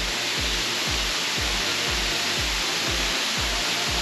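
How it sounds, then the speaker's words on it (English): Steady broadband roar of Sougahoagdee Falls, a waterfall pouring over rocky cliffs, filling the scene as a continuous wash of falling water with a faint rhythmic low thumping underneath and no talk. "get here to the waterfall."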